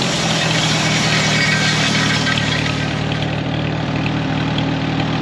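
A 1939 Farmall H tractor engine running steadily, a low, even rumble with a throbbing idle-like beat, close and loud, continuous with no voices.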